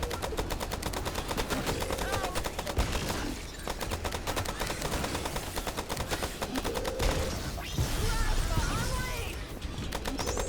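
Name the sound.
plasma cannon firing in video game Rocket Squad Infinity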